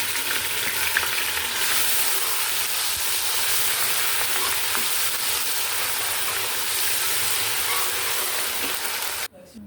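Garlic and ginger paste fry in hot oil in a pan with a loud, continuous sizzle and hiss that holds steady for several seconds before cutting off abruptly.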